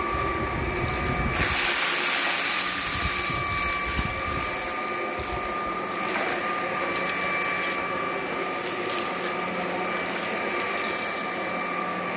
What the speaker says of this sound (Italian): Vediamo se il nostro aspirapolvere fa il suo dovere.